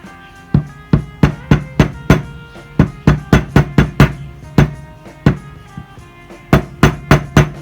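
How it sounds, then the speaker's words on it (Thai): Repeated sharp hammer strikes drive a Mini 4WD axle shaft into a plastic cone, close up, in irregular bursts of quick blows with brief pauses between them. "ทำการ ตอกตัวแกนให้ยุบเข้าไปหน่อยเองนะฮะ"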